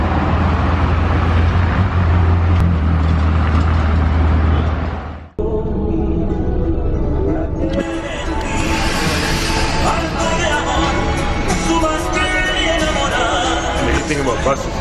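The inside of a moving bus gives a loud, steady rumble of engine and road noise that cuts off abruptly, followed by chatter and music playing on board as voices talk.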